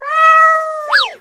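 A single cat meows clearly and loudly in a cat café: a sustained tonal call that rises into a brief upward inflection at the end, close and alone.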